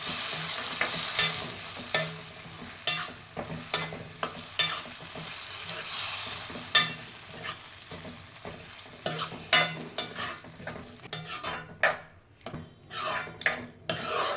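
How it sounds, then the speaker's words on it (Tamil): A spoon scrapes and stirs mashed potato curry with added water in a pan, making repeated close clinks and scrapes in an uneven rhythm over a soft bubbling sizzle. "நல்லா சேர்த்து நல்லா மிக்ஸ் பண்ணிக்கலாம்."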